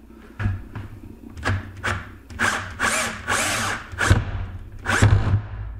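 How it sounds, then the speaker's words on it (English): Power drill whirring into a taxidermy deer form on a worktable, revving in repeated short bursts at close range, some bursts rising to high speed, with brief quiet pauses between them. "once you get it drilled down in here, you want to turn your drill on high speed"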